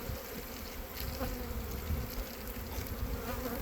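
Dense, steady buzzing of many honeybees on hive frames fills the air close by, a continuous drone with no pauses.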